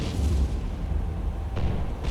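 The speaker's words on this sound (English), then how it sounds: "An explosion" An explosion in the submarine video game Cold Waters, heard as a deep, muffled boom rolling through low rumble with soft bursts of noise, loud and close.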